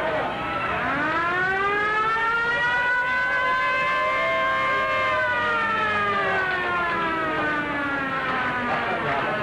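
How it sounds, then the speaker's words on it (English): A stadium siren at a 1989 baseball game winds up, holds a long wavering wail and slowly sags in pitch, loud and sustained over a faint crowd murmur. "You notice, Tom, even the siren sounds a little limp this evening"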